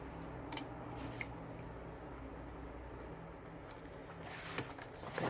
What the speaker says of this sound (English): Right, let's get the scissors.